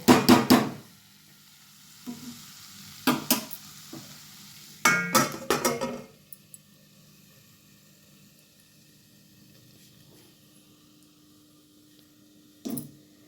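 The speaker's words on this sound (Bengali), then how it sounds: "তো একটু মাছ উল্টে দিয়ে আবারও ঢেকে রেখে দেব" Pieces of hilsa fry with onions in a pan as the fish is flipped and covered. Sharp metallic clanks of the spatula and lid come in short bursts, with a faint sizzle in the quiet gaps and no talk.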